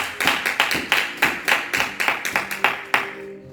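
A church congregation claps together in a steady, brisk rhythm, with about a dozen crisp, unison claps close by before the clapping stops.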